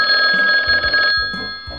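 A loud telephone bell rings steadily for about a second, then cuts off, leaving faint low thumps and background noise.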